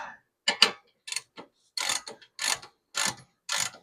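A 1/2-inch ratchet loosens a shock absorber bolt during a shock replacement, giving a series of crisp, close ratcheting clicks in short bursts separated by brief pauses.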